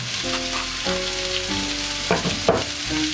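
Vegetables sizzle steadily in a pan for a slow-cooked winter stir fry, a constant close hiss with soft tonal background music and a couple of brief clinks.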